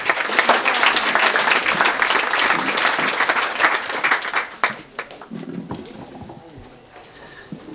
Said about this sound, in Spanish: Recibámoslo con un aplauso.